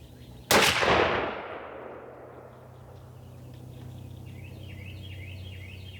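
One loud outdoor blast from a Mossberg 835 12-gauge shotgun firing a Hevi-Shot 3.5-inch 1-1/2 oz #4 turkey load, its boom trailing off over a couple of seconds, followed by birdsong in the background.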